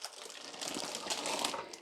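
Baking paper crinkles and tears as it is peeled off a baked Victoria sponge cake, a close, continuous papery rustle lasting a couple of seconds with no speech.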